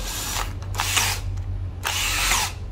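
Bursts from a 12 V cordless drill with a 10 mm chuck running in hammer mode: three loud, close, buzzing runs of roughly half a second each, separated by short pauses, over a steady low hum.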